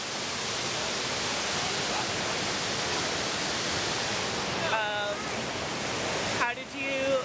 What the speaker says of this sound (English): So we're at the waterfall now.